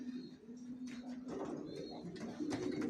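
Racing pigeons coo softly in a loft, low repeated throaty calls close to the microphone with faint rustling and background murmur.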